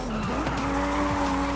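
An Audi RS 7 Sportback skids in the racing game Forza Horizon 5, its tires squealing in sustained, pitch-shifting screeches over a constant engine roar, close and loud throughout.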